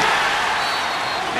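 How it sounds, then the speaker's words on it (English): A college basketball crowd at a Pitt Panthers home game against Oakland roars after a player's dunk finish. The dense, loud wall of cheering holds steady throughout with no break. "you can hear the emphatic finish as this crowd goes crazy"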